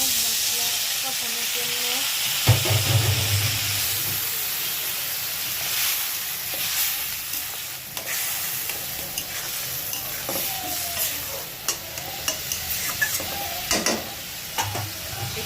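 Water hits a pan of frying spice paste made from cumin paste, coriander powder, chili powder, turmeric, salt and whole chilies. A sudden loud sizzle bursts out, then a steady hiss continues with stirring scrapes and soft clinks.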